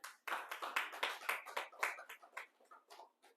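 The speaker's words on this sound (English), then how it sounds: "A hand of applause for them." A small group in a training session claps for a row of participants, with distinct, close hand claps in an uneven rhythm that thins out toward the end.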